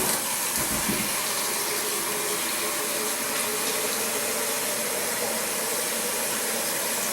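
Water pours steadily into a Vitamix blender holding about a cup of almonds, a continuous close splashing rush that runs unbroken throughout with no talk.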